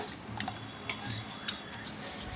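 Soft stirring of ragi flour batter with coriander, green chilli and curry leaves, a spoon scraping and clinking a few times against the bowl, quiet and close with low background noise.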